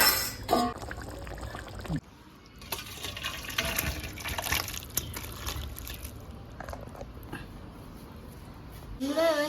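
Village-style chicken and potato curry poured from a cooking pot, giving a wet, sloshing pour that runs steadily for several seconds. There is a brief pause early on and a few clinks and scrapes.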